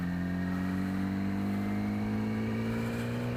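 A Yamaha R6 motorcycle engine held at full throttle drones steadily and loudly, climbing slowly in pitch over a few seconds without reaching a high scream, close and continuous with no talk.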